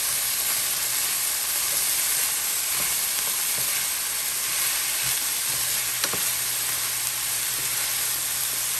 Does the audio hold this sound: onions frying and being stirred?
yes